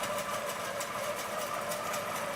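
A Butler robotics longarm quilting machine stitches a quilt with a steady, fairly faint mechanical whir and a quick, regular pulsing rhythm throughout.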